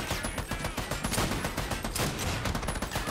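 Rapid, overlapping gunfire from the Army of Two video game crackles in dense bursts, loud and close, with no pauses.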